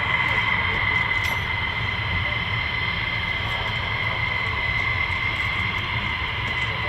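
Steady, loud jet engine roar from F-15 or F-35 fighter jets hot taxiing at RAF Lakenheath, a continuous whine over a broad rumble without a break.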